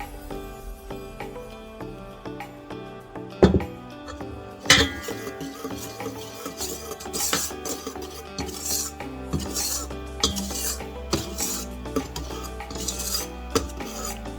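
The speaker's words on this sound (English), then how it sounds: "Make sure all the flour gets mixed in properly, smoothly, with no lumps." Flour is stirred into red velvet cake batter with a utensil, giving repeated scraping and clinking against the bowl, with a couple of sharper knocks early on and steady mixing throughout.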